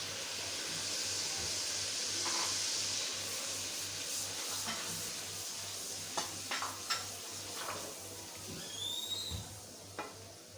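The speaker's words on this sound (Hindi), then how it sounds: "प्याज की जो पेस्ट हमने बनाई है वो शामिल कर दें।" Onion paste sizzling in a pan for kofta aloo curry, a steady soft frying hiss with occasional light scrapes and clinks of a spoon stirring near the end.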